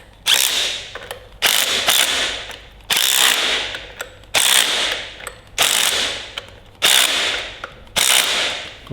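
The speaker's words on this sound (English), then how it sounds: "Let's just check them with a ratchet." A ratchet tightens bolts on a Ferguson TEA20 tractor gearbox: seven close, sharp bursts of rapid clicking, each a short back-and-forth stroke separated by brief pauses, with no voices.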